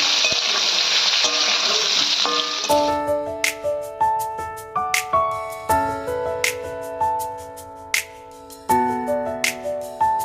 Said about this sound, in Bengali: এবার আলুগুলোকেও আমরা একটু কিছুক্ষণ ভেজে নেব।